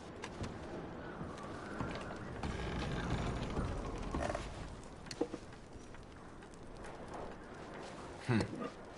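Horses in Red Dead Redemption 2 make faint clip-clop hooves with creaking tack and gear under game ambience, with a few louder knocks near the end.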